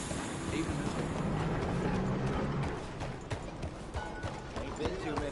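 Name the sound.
horses' hooves clip-clopping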